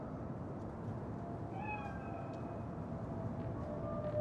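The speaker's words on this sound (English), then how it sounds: "Chill, just a cat." A cat meows in Cyberpunk 2077, a single drawn-out rising call heard faintly over steady ambient game noise and a low background hum.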